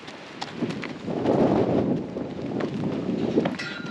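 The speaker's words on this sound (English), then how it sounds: "Like this beautiful horse that's about to run me over is named Suede." A horse walks across a barn floor with a few soft hoof thuds and shuffles close by. A gentle rustle runs under the steps, and no voice can be heard.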